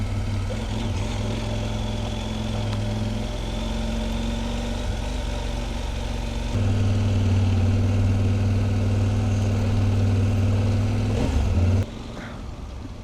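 A 2024 CFMOTO IBEX 800T motorcycle engine runs steadily while riding trails through Ozark woods, a continuous low drone that rises slightly in pitch and loudness halfway through before easing off near the end.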